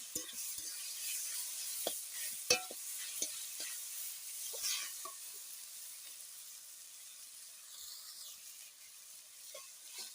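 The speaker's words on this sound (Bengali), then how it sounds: "এটা নাড়িয়ে নিয়ে একদম শুকনো গলা করে নেব" Taro leaves stirred and fried dry in a pan, a soft sizzle under scattered scraping clicks and taps from the spoon, fairly quiet and close, thinning out toward the end.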